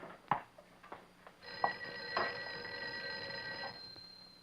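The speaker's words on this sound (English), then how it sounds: "I think your phone is ringing." An office telephone rings faintly, giving a sustained electronic trill for about two seconds, with a few soft clicks and taps before it.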